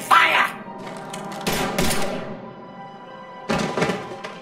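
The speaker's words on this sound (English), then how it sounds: "Now open fire!" Mass Effect 3 gunfire: a few heavy, thumping shots and short bursts ring out at intervals, leaving a lingering echoing tail between them.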